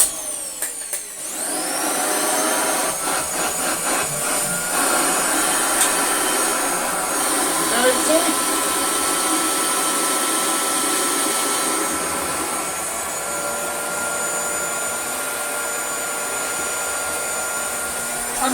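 Refurbished Hoover Junior 119 upright vacuum cleaner running, a steady loud whine with a high tonal hum that holds evenly for the whole stretch after a brief start-up, no talk.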